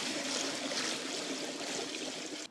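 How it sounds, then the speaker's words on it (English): Water pours steadily into the tank of a battery-powered pressure washer, a continuous hissing, splashing trickle close by that runs for a couple of seconds and then abruptly drops away. "Right, fill it with water."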